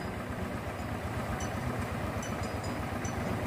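A tractor plowing a rice field chugs steadily at a low, even idle, a constant rumbling drone heard from a short distance, with no voices.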